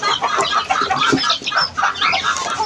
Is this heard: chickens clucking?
yes